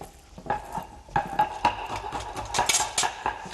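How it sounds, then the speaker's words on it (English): Stirring Italian tagliatelle primavera in a pot on a stove, a spoon scraping and clinking against the metal in repeated strokes, near and clear with no talk. "So I'm going to stir this for you while you do this."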